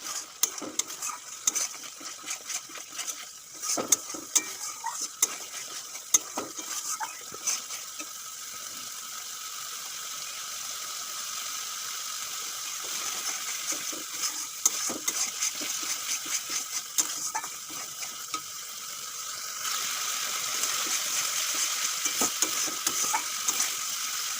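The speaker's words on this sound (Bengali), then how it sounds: "মশলা ভালো করে কষানো হয়ে গেছে দেখুন তেল ছেড়েছে" Spices sautéing in oil in a pan for a tilapia fish curry, a continuous close sizzle broken by repeated scraping and clattering stirs of a spoon, with no voices.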